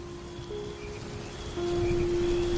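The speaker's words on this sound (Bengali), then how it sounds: "চারিদিকে শুধু বৃষ্টির শব্দ, দূরের ব্যাঙের ডাক" Steady heavy rain at night, used as an effect in a spoken story, hisses evenly throughout as a dense wash of drops that grows louder partway through, with a faint tonal hum running underneath and no voices.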